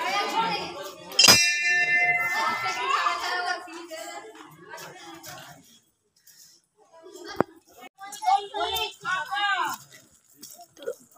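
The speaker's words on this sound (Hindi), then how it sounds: "तो चलिए पहले घंटियाँ बजा लेती हूँ" Temple bells rung at a Bajrangbali (Hanuman) shrine at Umananda temple, Guwahati: one loud metallic clang with a long ringing decay, then a second sharper strike a few seconds later, with someone talking before and after.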